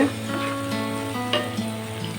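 Steady sizzling of salted onions frying in a pan, a constant crackling hiss with a low hum underneath and a few faint clinks.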